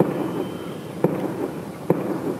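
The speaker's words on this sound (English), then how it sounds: "The sound of grenades and automatic gunfire an indication that the rebels had no intention of surrendering." Two sharp bangs from grenades and gunfire during a siege of a rebel-held camp stand out against a steady noisy background, spaced about a second apart.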